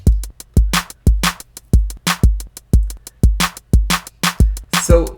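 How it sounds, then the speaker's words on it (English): A looped drum groove modeled on a song, programmed in Logic Pro X: punchy kicks, snares and claps hit in a tight, repeating pattern, loud and upfront, with a brief fill or crash near the end. "So I started by just imitating the drum groove."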